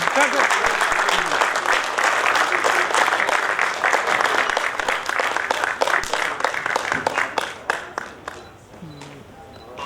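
Audience at a kavi sammelan breaks into loud, dense applause for a poet, sustained for several seconds before thinning into scattered claps and fading near the end.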